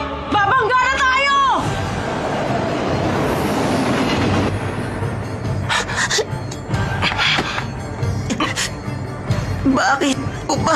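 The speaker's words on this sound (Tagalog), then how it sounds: "Parating na yung isang tren!" A train approaching in an animated scene, with rumbling rail noise and clatter under excited shouting voices, plus a brief screech near the start.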